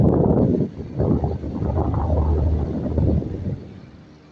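A homemade rechargeable charger fan blows air close to the microphone, a steady low whooshing rush with rumbling buffets that eases off slightly toward the end.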